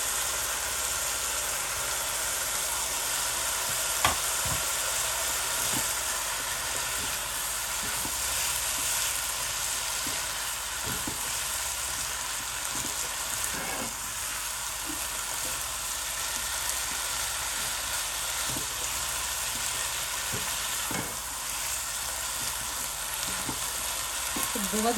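Chicken frying in a pan for chow mein, a loud, dense, continuous sizzle throughout with occasional faint scrapes and knocks of stirring, no talk.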